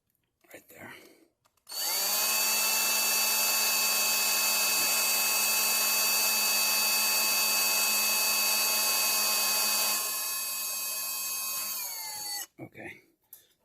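Power drill boring a hole in a module panel: one sustained high whine of roughly ten seconds that eases off at the end, with soft talk heard briefly before and after.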